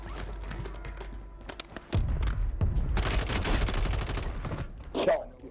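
Rapid RAM-9 submachine gun fire crackles in Call of Duty Warzone on Rebirth Island, dense fusillades of close, loud shots with short pauses, followed by a brief voice near the end.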